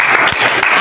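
Brief, dense clapping from a gathering of madrasah heads at a coordination meeting, a close burst of applause lasting under a second.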